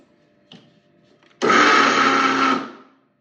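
Kitchen mixer grinder switched on to blend ingredients, preceded by a couple of small clicks, then a loud, steady motor whir for about a second and a half before spinning down.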